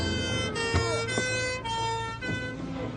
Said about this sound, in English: 4 police cars, an ambulance, and 1 black car drove up to the front of Gerald's house.